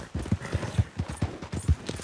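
Horse hooves clip-clopping in Red Dead Redemption 2, a Morgan horse moving at a steady walking rhythm, close and fairly loud with about a dozen distinct hoof thuds and no talk.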